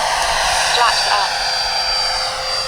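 A Freewing F-22 Raptor RC jet makes a low, slow pass with flaps up, giving a steady high-pitched turbine whine with a slight rise and fall. It sounds fairly close and continuous.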